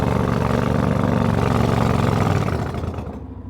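A homemade lawn mower engine cutting grass about five feet tall drones loud and steady, then sags and fades near the end as it bogs down and clogs.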